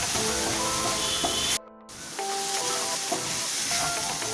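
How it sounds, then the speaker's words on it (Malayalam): Biryani masala for prawn biryani frying in oil in a pan, a continuous close sizzle and hiss that breaks off for a moment, then resumes steadily. "ഇത് എണ്ണ തെളിയുന്നത് വരെ കുറച്ച് സമയം കിടക്കും ഇതിൽ"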